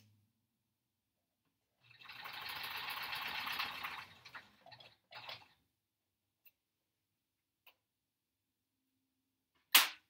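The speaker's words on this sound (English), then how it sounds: "I'm just trying to get these seams sewn." A sewing machine stitching quilt seams: a steady whirring run of close stitching lasting about two seconds, followed by a few short stops and starts, then near silence broken by faint ticks and one sharp click.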